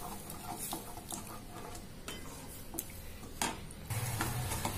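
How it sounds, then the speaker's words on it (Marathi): Semolina cooking in milk for sheera is stirred in a pan, giving a steady soft scraping and bubbling texture with periodic louder spoon strokes, close and unaccompanied by talk. "आपण रव्याला दुधामध्ये शिजवून घेऊया."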